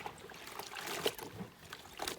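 Tie-dyed fabric being hand washed in warm, sudsy water, giving soft, continuous sloshing and trickling with small splashes at a fairly low level and no voices.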